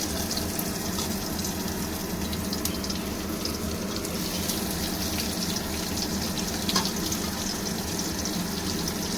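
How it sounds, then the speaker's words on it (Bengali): Sliced onions fry in a pan with cardamom, cinnamon, cumin and bay leaf, giving off a dense, continuous sizzle that stays close and even throughout. "পেঁয়াজটা আমি খুব ভালো করে লাল করে একদম পেঁয়াজটা ভেজে নেবো"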